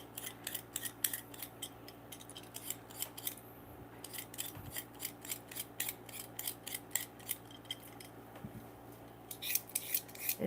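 Peeled potatoes being grated for hash browns, a steady series of rhythmic rasping strokes that repeat quickly and evenly at close range with no talking.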